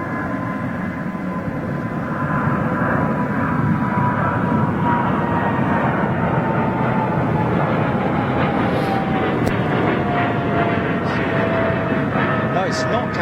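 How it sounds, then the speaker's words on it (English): A British Airways Boeing 777-300 jet airliner at London Heathrow roars loudly and steadily, with a slowly falling whine running over the broad engine noise. The sound swells after the first couple of seconds and then holds strong. "it's a British Airways 777-300"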